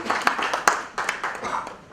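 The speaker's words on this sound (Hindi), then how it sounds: "ज़ोरदार तालियों के साथ स्वागत करिए" Audience applause welcoming a guest to a Rajasthan forum talk event, a steady burst of many hands clapping with sharper individual claps standing out, moderately close and fading slightly toward the end.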